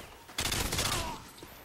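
FAMAS rifle fire in the Modern Warfare 3 video game, a rapid burst of automatic gunfire after a short quiet lead-in, trailing off over about a second, fairly faint and alone.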